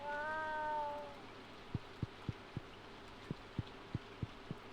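Cats meowing in the farming game Stardew Valley: a short run of clear, close meows at the start, then a steady series of soft, evenly spaced thumps.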